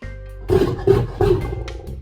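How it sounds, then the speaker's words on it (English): A lion lets out deep, loud roars from close by inside a home kitchen, three heavy pulses in quick succession over a low rumbling growl. "One step inside and this guy got a deep roar of disapproval."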